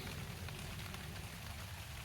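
Steady rain patters on a forest trail, a soft, even wash of drops with no voices, continuous and fairly faint throughout.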